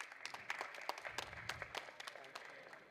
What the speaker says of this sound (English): Can we have a good round of applause?